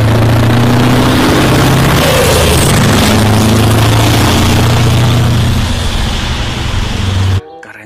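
A container truck drives past, its low engine rumble steady and loud for about seven seconds with a brief horn toot, then cutting off abruptly near the end.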